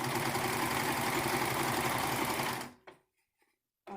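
A serger sewing machine stitching the bottom seam of a fabric ninja mask whirs loudly and steadily at close range, then runs down and stops, followed by a few small clicks and handling noises.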